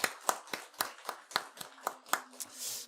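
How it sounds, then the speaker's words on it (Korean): A church congregation clapping in blessing, heard as a quiet run of about nine sharp claps in an even, quick rhythm, fading into soft room noise at the end. "우리 축복하는 박수를 한번 드렸습니다"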